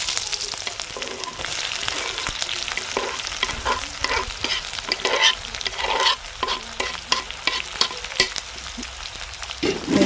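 Sliced onions fry in a pan for bachali kura, a loud close crackling sizzle with frequent stirring clicks and scrapes throughout, no talking.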